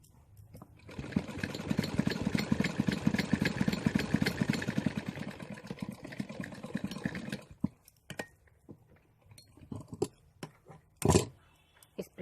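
Sewing machine stitching the underside of a single katori blouse, giving a fast, continuous mechanical whir for several seconds before stopping, followed by scattered faint clicks and handling noises.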